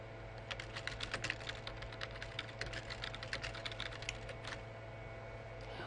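Steady, rapid keystrokes on a computer keyboard as a message is typed, close and clear with a light hum beneath and no talking.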